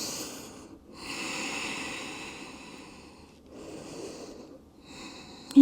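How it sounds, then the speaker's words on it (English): Slow, deep breaths during yoga child's pose, three long airy inhale-exhale cycles separated by quiet pauses, close and soft, with no talking. "3 deep breaths here."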